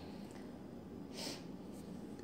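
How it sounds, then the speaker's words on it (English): A single quiet sniffle, short and breathy, heard alone in a calm indoor room. "sorry, sniffles."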